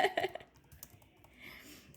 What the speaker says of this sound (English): I can't type with one hand.